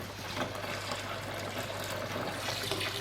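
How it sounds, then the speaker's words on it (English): Water gurgles and rushes steadily through an aquarium gravel cleaner pipe during a saltwater reef tank water change, a continuous near trickle with a low hum beneath. "This will slow down the flow coming through your gravel cleaner"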